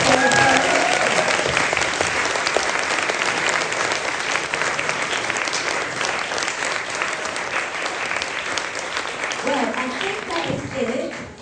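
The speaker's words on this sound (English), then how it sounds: "A huge round of applause." An audience at a Christmas concert claps loudly and steadily, the applause holding for several seconds before thinning as a voice begins speaking near the end.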